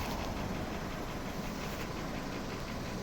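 A 2007 VW Cross Polo with a 1.6 petrol engine idles steadily, making an even, continuous mechanical hum with no change in pace.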